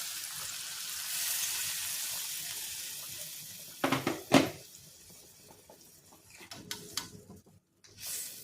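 Hot water splashes into a pan of fish curry in short, gurgling bursts, followed by clinks and quieter sloshing, after a soft hiss.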